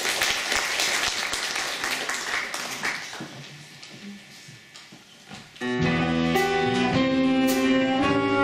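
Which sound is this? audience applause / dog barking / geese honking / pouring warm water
audience applause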